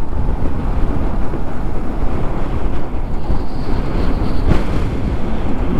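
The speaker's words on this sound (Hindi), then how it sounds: "हवा बहुत तेज है, सब मिट्टी छोटे छोटे पत्थर उड़ा दिया" Strong wind buffets the microphone near a dam at Pawna Lake, a loud, continuous roar with gusts throughout and no voices.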